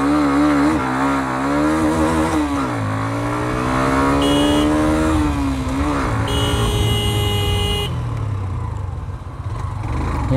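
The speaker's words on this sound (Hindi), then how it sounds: "फर्स्ट गियर पे पहले रेव करते हैं।" Hero Xtreme 125R motorcycle engine revving in first gear, loud and close, with revs climbing and falling in waves, a sustained high-rpm drone, then settling toward a lower idle near the end.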